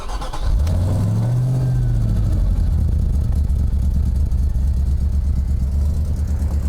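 A Volvo XC90 engine cold-starts with a loud crank and a brief rev that rises and settles, then idles steadily and close by for several seconds, with no talking.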